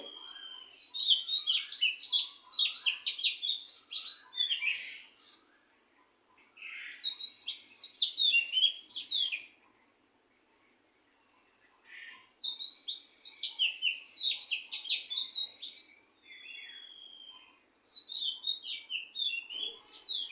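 Birds chirp outdoors at dawn in rapid, bright twittering phrases, in four bursts of several seconds each separated by short quiet pauses, fairly close and clear.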